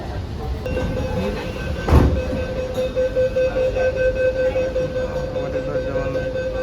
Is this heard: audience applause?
no